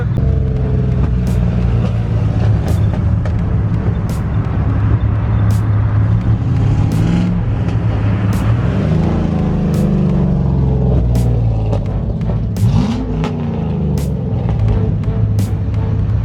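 A stock 5.3 V8 car engine accelerates hard during a street race, a loud, steady rumble rising through the gears with audible pitch sweeps at each shift, close and continuous with no talk.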